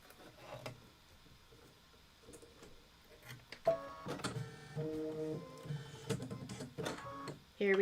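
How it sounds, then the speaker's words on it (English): An embroidery sewing machine stitches a design in black thread, its steady mechanical whirring rising and pulsing through most of the stretch, close and moderately loud after a quiet start. "We're going to put in black thread, and we're going to stitch out fresh spider cider."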